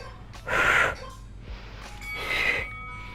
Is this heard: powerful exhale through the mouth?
yes